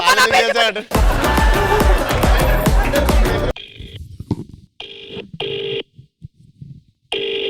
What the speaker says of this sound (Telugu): ఒక్కసారి బాలకృష్ణ గారికి ఫోన్ కొడతారా?